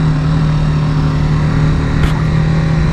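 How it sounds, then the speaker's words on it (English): A BMW G 310 GS single-cylinder motorcycle engine revs loud and close with a throbbing low hum, rising briefly in pitch for a short burst before settling back, with no talk over it. "Get to rev out this single a little bit."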